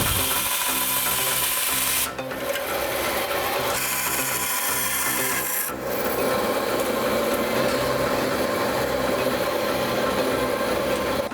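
Sheet metal being cut out to a taped template for a Nissan Skyline R34 rear wheel well, giving a continuous loud rasping, grinding cut with two brief dips in intensity, no talking.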